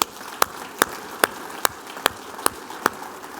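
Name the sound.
audience applause for mothers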